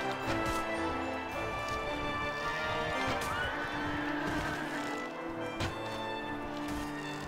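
Horses neigh and whinny in a Mount & Blade: Warband battle, with clip-clop hoofbeats under a dense, continuous bed of game combat noise.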